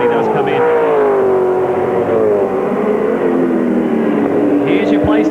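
Race cars at a 2002 V8 Supercars round of the Clipsal 500 street race roar steadily past with a sustained engine drone and shifting pitch, while a commentator talks over the top throughout.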